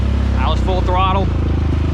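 A Honda Rancher ATV fitted with Assassinator mud tires runs at full throttle. Its loud, close engine drones steadily under a man's speech, which dominates the first half.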